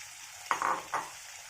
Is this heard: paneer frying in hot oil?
yes